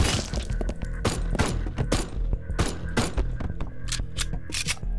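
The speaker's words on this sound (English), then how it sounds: "This time I'm gonna use my pistol and take out every single one of them." Pistol shots fired in the game Haydee, a quick series of sharp, loud cracks in an irregular rhythm, with thuds and mechanical game noises between them.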